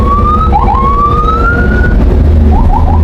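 Ambulance siren wailing through heavy Jakarta traffic, loud and close, its rising and falling tone sweeping repeatedly over a dense rumble of engines.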